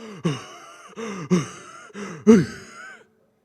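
A preacher during a church sermon imitates heavy, ragged panting from a steep uphill climb: four loud, drawn-out gasping breaths in a row, each with a rough groaning edge, then silence.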